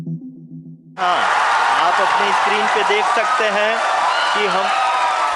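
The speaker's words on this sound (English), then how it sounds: "Cheers and applause at Mission Control in the southern Indian city of Bengaluru." Cheers and applause erupt at Mission Control in Bengaluru for the Chandrayaan 3 lunar landing, a sudden loud wall of clapping and crowd noise that breaks in after a brief stretch of speech and holds steady.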